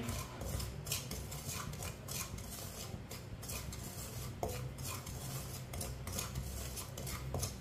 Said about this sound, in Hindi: सूजी को लाजमी चम्मच चलाते हुए पकाना है।